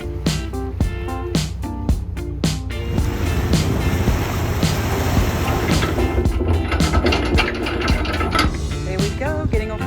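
Boats on the Wadden Sea off the Netherlands during a mudflat trip, with a steady loud engine drone and water rush throughout, marked by sharp repeated knocks in the first few seconds and clattering thumps later.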